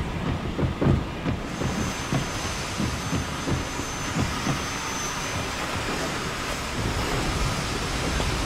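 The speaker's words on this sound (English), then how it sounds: "Okay, I'm gonna go start up the train." Rumbling train engine in the video game Mafia 2 starting up, a steady broad mechanical drone with some clanking bursts early on, continuous and fairly loud throughout.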